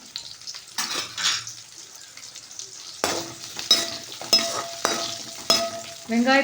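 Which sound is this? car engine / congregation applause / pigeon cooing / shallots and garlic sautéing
shallots and garlic sautéing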